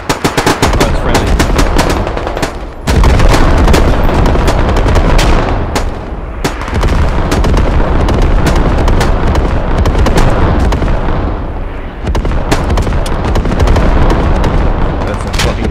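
Heavy artillery barrage and rapid gunfire in the military shooter video game Squad: a very loud, continuous roar of explosions with crackling bursts of automatic fire and sharp cracks throughout, close and overwhelming, no clear speech.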